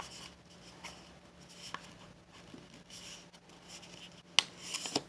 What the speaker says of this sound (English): Then we're going to fold the sides to the center.